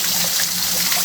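Water runs and trickles steadily at close range as someone washes by hand outdoors, a continuous bright splashing hiss with no pauses.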